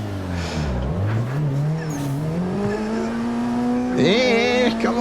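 A car drifting in a racing simulator game, the engine note rising and falling between shifts, then a sharp burst of tire squeal near the end as the car slides.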